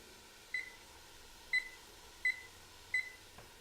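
A kitchen timer sounds four short, sharp electronic beeps, evenly spaced about a second apart, as it is set while cooking a curried chicken and vegetable stew, with a quiet room hum underneath.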